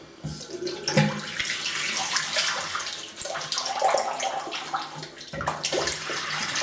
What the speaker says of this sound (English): I'm just putting some uh, water in the sink because I'm going to need some.